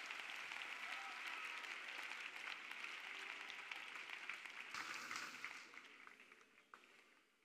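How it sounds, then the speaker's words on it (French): A congregation at a church prayer service claps steadily together, a dense, sustained wash of applause from a large crowd that thins and fades toward the end. "Let us clap for Jesus Christ."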